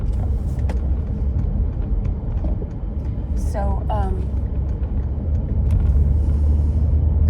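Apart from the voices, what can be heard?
car driving, engine rumble inside the car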